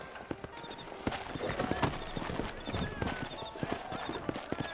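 Horse hooves clip-clop in the Red Dead Redemption video game, a steady rhythm of close, crisp hoofbeats over a dusty town backdrop with faint talk and a soft whinny.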